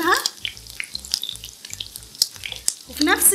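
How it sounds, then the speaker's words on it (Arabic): Meat fries in hot ghee in a pan, crackling and spitting in bursts of sharp sizzles with intermittent stirring knocks, close up and without talk. "هنحط سمنة في طاسة على النار، معلقة سمنة كبيرة. اول ما تسيح هنحط اللحمة."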